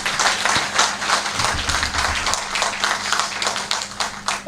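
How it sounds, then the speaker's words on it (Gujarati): A crowd at a Gujarati motivational talk claps steadily for the speaker, a dense run of hand claps that stays even and fairly loud for the whole stretch, with no speech over it. "દિલથી જોરદાર તાળીઓ થઈ જાય પ્લીઝ."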